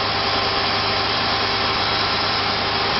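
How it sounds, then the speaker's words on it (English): A gasoline tractor engine fitted with a rebuilt Zenith updraft carburetor from a Weldon tractor runs at a steady idle, an even, continuous drone held at constant loudness with no talk over it. "This is a Zenith updraft carburetor off a Weldon tractor."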